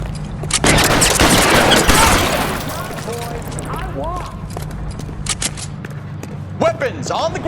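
Rapid close volley of gunfire in the 2011 video game L.A. Noire during the first two seconds, then quieter scattered shots and thuds as voices speak over the scene.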